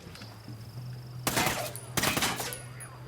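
Gunfire in the video game SO4 during weapons testing: two loud, close bursts of rapid shots, the first running about three quarters of a second and the second slightly longer, over a quiet background hum.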